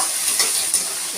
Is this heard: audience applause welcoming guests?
no